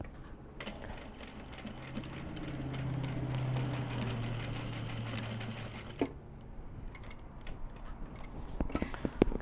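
A sewing machine stitches a welt pocket for a small traveller's notebook cover, a steady close whirring run of rapid stitches lasting several seconds, then stopping, followed by scattered clicks and handling noises.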